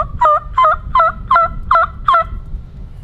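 Wild turkey gobbling from a ridge, six sharp rapid gobbles in a rhythmic burst, clear and fairly loud against faint rustling outdoor background.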